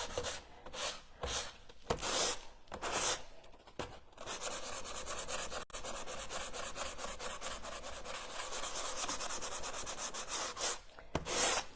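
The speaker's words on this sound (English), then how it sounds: "so now the sanding part is done" Hand sanding across the front face of a wooden door, steady abrasive rubbing strokes in a quick back-and-forth rhythm, close and fairly loud, with brief pauses between passes.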